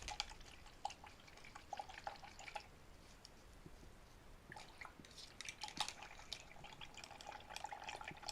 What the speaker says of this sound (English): go ahead and rinse your brush